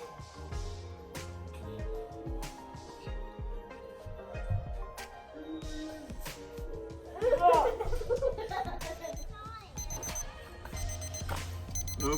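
A meat thermometer alarm beeps repeatedly in the background, signalling a smoked turkey's internal temperature, while people talk and laugh over it.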